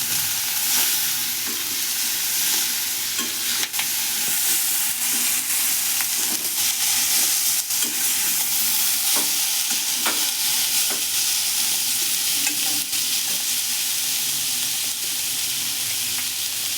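Chopped green chillies frying in a hot pan, a loud, constant sizzle with repeated scraping strokes of a spoon as they are stirred.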